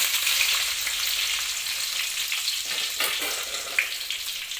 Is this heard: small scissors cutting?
no